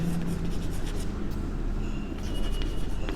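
Pen or pencil scratching steadily on paper during a commerce maths lesson, a continuous close rubbing texture with no talk over it.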